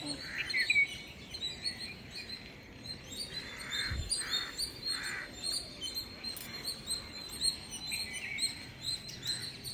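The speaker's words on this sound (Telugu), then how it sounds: "అయ్యో చెట్టు నిండా పక్షులు ఉన్నాయి" Small birds chirp steadily in drumstick trees packed with them, a busy chorus of overlapping tweets and calls over a faint outdoor hiss, with no talking.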